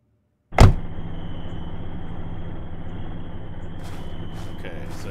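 In a video game, after a brief silence, a loud thump gives way to a car engine's steady hum as the vehicle pulls away, with faint clicks near the end.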